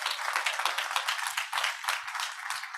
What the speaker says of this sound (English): I think you deserve a round of applause for at least that